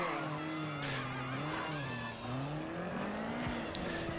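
A car in the video game Mafia 3 drives hard, its engine droning steadily while tires squeal in long, wavering tones, loud and close throughout.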